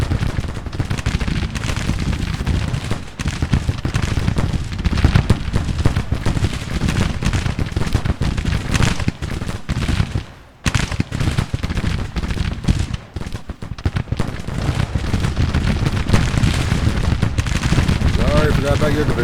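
Civil War cannons and musketry boom and crackle almost without pause on a Grand Tactician battlefield at Grafton, West Virginia, dense and loud with a short lull near the middle.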